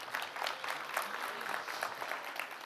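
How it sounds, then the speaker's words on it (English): Audience clapping at a tech conference session in Istanbul, a steady patter of many hands heard from some distance and at moderate volume, continuing throughout with no break. "Let's give a big applause for this organization and who made it possible"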